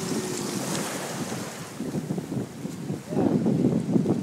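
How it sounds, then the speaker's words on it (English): Ocean surf breaking near a baby swimming in the sea, soft wash of waves mixed with wind buffeting the microphone, swelling louder toward the end, with a voice heard faintly beneath. "we've got Ronin swimming in the ocean"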